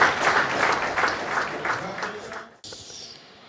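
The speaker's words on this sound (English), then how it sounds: "Shall we please give them a resounding round of applause?" An audience at a governors' birthday celebration breaks into applause, dense clapping with a voice talking over it, cutting off abruptly into quieter room noise near the end.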